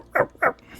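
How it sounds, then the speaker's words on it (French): Dog barking in a horror role-playing game: two short, fairly loud barks in quick succession, then the start of a third, heard alone. "Le chien est toujours en train d'aboyer là."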